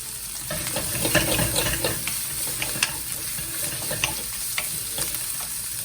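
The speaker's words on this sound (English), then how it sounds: "Now we're going to go in with the leaves. Just stir fry them up." Cauliflower leaves stir frying in a hot pan for a cauliflower curry, a steady sizzle broken by the scrape and clatter of stirring close by.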